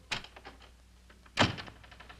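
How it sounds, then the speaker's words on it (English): A door shuts with a solid thunk in a quiet room, preceded by a softer knock or handle sound; two distinct impacts with no voices. "Close the door."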